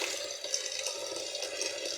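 Tap water pours steadily over cold cooked spaghetti in a pot or colander, a soft continuous hiss and splash, faint and close, with no talking.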